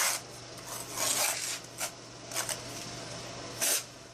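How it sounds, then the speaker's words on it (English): A trowel spreads thinset mortar across a shower pre-slope, giving intermittent scraping rasps in several separate strokes with short pauses between them, close by and moderately loud, with a steady low hum underneath and no talking. "So first when we put thin set here, you can see we spread it all over."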